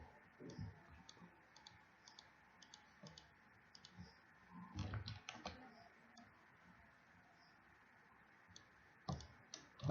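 Keys clatter on a computer keyboard while a pharmacy management program is built in C# and Visual Studio, in quick irregular bursts with a few louder clusters and short pauses.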